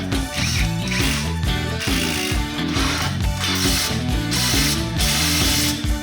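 A ratchet tightens size 18 bolts on a Nissan Almera engine mount, clicking fast and steadily up close through the whole stretch, with rhythmic strokes and no talking.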